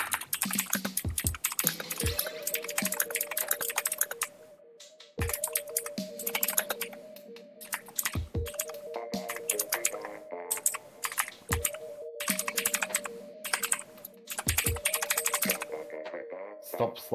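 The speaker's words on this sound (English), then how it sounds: "Stop slapping your keyboard." Rapid clattering keystrokes on a computer keyboard in bursts and runs throughout, close and loud, with a voice talking in places alongside the typing.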